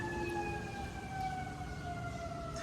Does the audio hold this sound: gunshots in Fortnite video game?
no